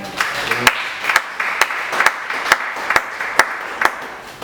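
A church congregation claps along in a steady rhythm, around ten sharp, evenly spaced beats standing out above a low murmur of the crowd, fairly close and loud.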